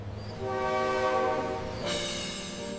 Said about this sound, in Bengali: আমরা এখন কলম্বো থেকে ক্যান্ডির উদ্দেশ্যে ট্রেনে উঠছি।